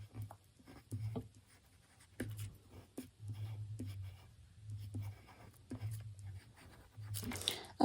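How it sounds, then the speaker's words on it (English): A pencil squiggling short wrinkle lines on white paper for an eye sketch: close, faint, scratchy strokes come in quick irregular bursts, with brief soft sounds near the end. "So I will just squiggle little lines on there."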